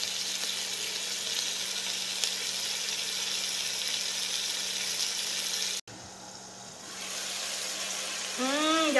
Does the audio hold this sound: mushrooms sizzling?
yes